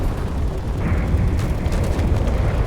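Custom railgun turrets on a heavy battleship in Space Engineers fire in a dense, continuous barrage of deep booms and rumbling blasts, loud and close throughout.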